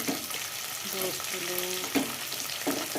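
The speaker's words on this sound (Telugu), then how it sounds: "ఉల్లిగడ్డ వేస్తున్నా" Onions frying in hot oil in a pan, a steady sizzle with light stirring, while a person speaks over it.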